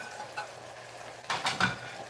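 Dishes and utensils clatter in a kitchen sink during washing up, a few quiet clinks early on, then a louder cluster of clanks near the end, fairly close.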